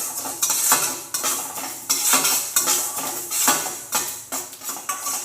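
Fenugreek seeds dry-roasting in a pan without oil, stirred with a metal spoon: a steady run of scraping, rattling strokes with faint crackle, close and fairly loud, with no voices.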